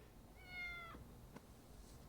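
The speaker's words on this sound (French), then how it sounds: "Non, c'est le chat, madame." A house cat gives a single short meow in an apartment, faint and somewhat distant over a low background hum, followed by a brief soft knock.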